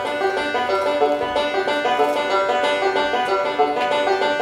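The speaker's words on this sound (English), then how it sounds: "The second roll I use is the forward reverse roll." Close, bright banjo picking in a forward reverse roll, an unbroken stream of quick rippling notes at a steady tempo with no voices.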